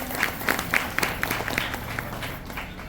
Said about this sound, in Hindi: इनके टीम के लिए एक बार जोरदार तालियां हो जाए